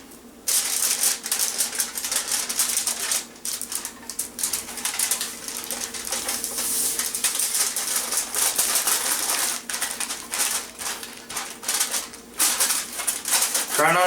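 Heavy duty aluminum foil crinkles and rustles as it is wrapped around a roast loin, a busy stream of close, crackling, papery rattles that goes on throughout.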